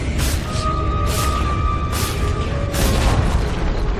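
Dota 2 tower being destroyed in a game match, with several loud booming crashes at roughly one-second intervals. The hits rise over a dense, busy rumble of battle noise and carry a steady tonal hum.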